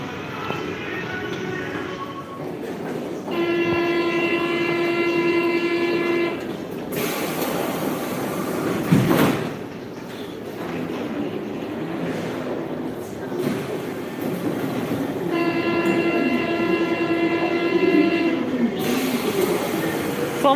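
Trainset 118 running with a loud rumble of wheels on track, and a sustained two-tone horn blasting twice, each for about three seconds, over the steady roll of the train.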